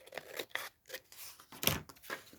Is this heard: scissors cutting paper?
yes